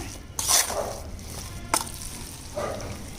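Boondi laddu mixture being stirred together with ghee-fried cashews and raisins, a few soft scraping strokes of a spoon against the vessel with quiet gaps between.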